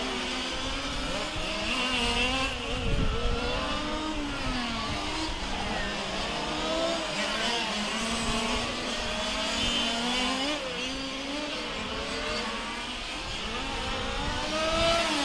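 Large-scale RC race cars scream around the track at the 2015 IFMAR Large Scale World Championship finals, several engines wailing and shifting pitch continuously as they rise and fall through corners, loud and steady throughout.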